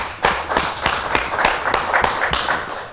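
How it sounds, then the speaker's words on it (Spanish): Audience applause on a Spanish-language talk show, a burst of rapid, overlapping hand claps from a crowd, loud and steady for about three seconds with no voices over it. "¿Le damos un aplauso?"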